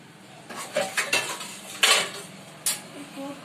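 A metal spoon clinks against bowls while daliya is served into small katoris for a family: a few sharp, bright clinks and scrapes at close range, spaced irregularly over a quiet background.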